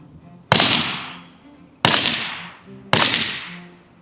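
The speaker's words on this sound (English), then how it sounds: "My 300 black art Honey Badger is small, super light, easy to shoot and really quiet." Three shots from a suppressed 300 Blackout Honey Badger rifle fired with subsonic ammunition, each a sharp, whip-like crack with a quick decaying tail, spaced over a second apart and fairly loud.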